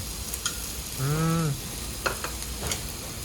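Jeju black pork sizzles on a Korean barbecue grill in a restaurant, a steady close crackle with scattered pops, briefly overlaid by a short tonal vocal sound.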